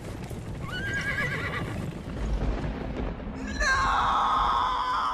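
A horse in Red Dead Redemption 2 whinnies twice, a shorter neigh early on and a louder, drawn-out one near the end, with soft hoof clatter and rumble beneath.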